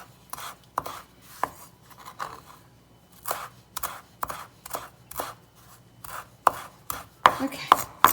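A kitchen knife chops food on a cutting board while lasagna is being prepared, giving a dozen or so sharp, close knocks at an irregular rhythm that speed up into a quick flurry near the end, with no talking.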